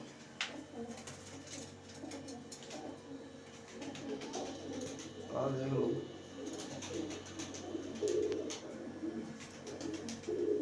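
Pigeons coo softly in low, rolling bursts, with a louder swell midway, against a steady background hum and faint nearby voices.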